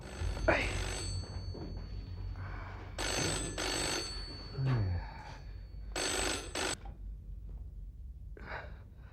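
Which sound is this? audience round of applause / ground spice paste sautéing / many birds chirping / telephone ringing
telephone ringing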